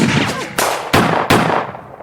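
Three sharp, loud gunshots ring out at even intervals, each with a short echoing tail, followed by a fading decay.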